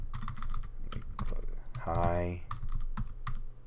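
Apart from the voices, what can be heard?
typing on a computer keyboard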